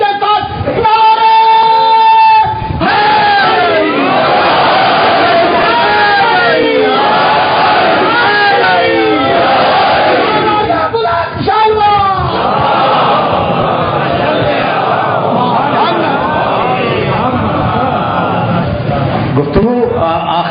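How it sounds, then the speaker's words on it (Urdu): A large mourning congregation at a majlis for the martyrdom of Imam Ali chants religious slogans at full voice. Loud, massed, rhythmic cries and bellows roll on continuously for about twenty seconds. "کلیجے کی پوری طاقت کے ساتھ نعرے"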